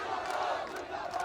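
A large crowd of protesters blocking a road in Raipur, Chhattisgarh, some climbed on top of vehicles, roars with dense overlapping shouting in one brief, loud, continuous burst.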